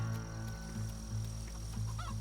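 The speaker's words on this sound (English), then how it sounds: "Oh, chickens." Short, repeated clucks and honking calls from chickens in the South of Midnight video game, heard faintly over a steady background hum.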